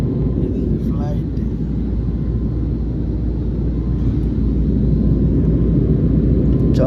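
A steady low engine drone fills an airplane cabin during a slow flight from Chennai to Vizag, an even, unbroken rumble heard from inside with no pauses.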